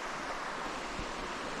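River water on a late-fall backcountry river crossing along the Fundy Circuit, a faint, steady rushing wash with a wind-like texture and no voices.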